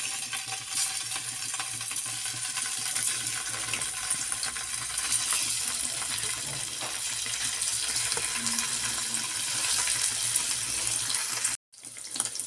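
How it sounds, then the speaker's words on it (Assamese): Paneer pieces fry in hot oil with a continuous, close, crackling sizzle that stays steady throughout. "এতিয়া ইয়াত মই পনীৰকেইডোখৰ ফ্ৰাই কৰি ল'ম।"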